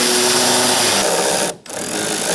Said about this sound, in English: Use a 10mm socket and undo this bolt.